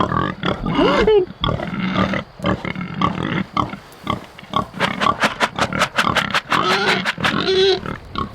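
Close, loud grunts and snorts from pigs being moved through woodland on a family farm, coming in a steady irregular stream with a few higher squeals, under occasional calling by a person.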